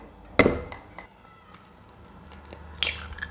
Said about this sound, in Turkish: Omlet için yumurtayı kaseye kırıyorum.